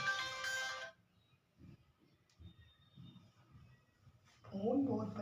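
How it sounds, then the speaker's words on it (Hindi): A mobile phone ringtone in a classroom: a short bright electronic melody rings loudly at the start, falls silent while someone speaks, then briefly returns at the end. "फोन किसका है?"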